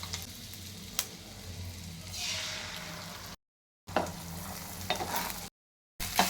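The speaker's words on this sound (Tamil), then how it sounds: "நம்ம அடித்து வச்ச முட்டையை ஊற்றிக்கலாம்." Beaten eggs sizzling in melted butter in a pan, a soft steady frying hiss with occasional stirring scrapes and clicks, interrupted by brief silent gaps.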